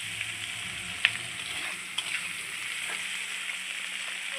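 Salted onions fry in a pan with a soft, even sizzle, punctuated by a couple of light utensil taps.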